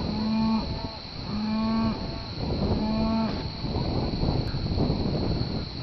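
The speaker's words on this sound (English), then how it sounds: "Check out all the cows." Dairy cows on a farm among wind turbines at the Fenner Wind Farm in upstate New York moo in three long, loud, low calls, followed by steady outdoor wind and rustling with no voices.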